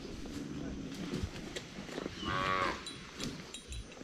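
A Nelore cow moos once, clearly and at middle distance, on a farm during cattle handling, over steady outdoor noise and rumble.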